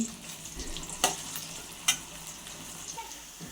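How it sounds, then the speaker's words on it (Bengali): Potatoes fry in a pan with a steady low sizzle, broken by two sharp clinks of a utensil against the pan. No one speaks. "আলু হচ্ছে আলু হচ্ছে ভাজতেছি আর কি"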